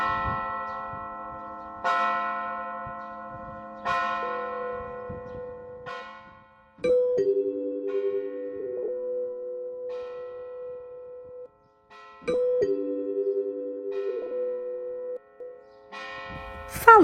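A church bell strikes the hour in a series of resonant, ringing tolls, each decaying slowly, followed by a lower sustained bell tone that rises and fades twice; quiet and clear with no talking.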